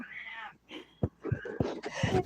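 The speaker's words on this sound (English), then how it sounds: "I don't know if you can hear my cat in the background." A domestic cat meows in the background of a quiet indoor room, a few drawn-out complaining cries spread across the moment, fairly soft.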